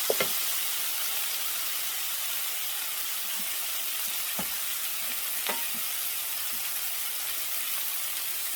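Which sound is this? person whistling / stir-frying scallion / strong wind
stir-frying scallion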